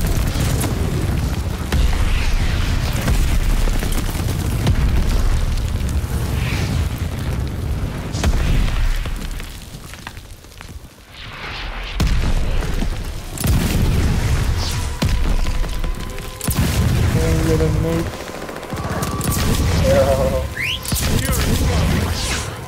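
Bomb blasts in Call of Duty Vanguard on the Shipment map, heavy booming explosions rolling repeatedly over a long stretch, with a brief lull midway and whistling, crackling debris afterward.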